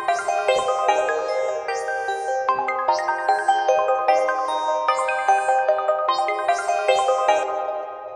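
Melodic synth sitar lead made in FL Studio plays a continuous plucked, bright melody of rapid repeated notes with a shimmering, bell-like tone, loud and steady throughout with no voices.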